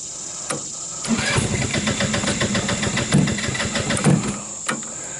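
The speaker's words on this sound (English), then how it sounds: "sounds like it's running out of gas." A salvaged off-road go-kart engine runs roughly, sputtering and stuttering unevenly as it runs out of gas, with a steady high whine over the chugging, heard close by outdoors.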